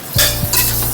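Chopped tomato sizzles and fries with ginger in a hot pan, a steady hiss broken by two quick stirring scrapes, close and loud with no talking.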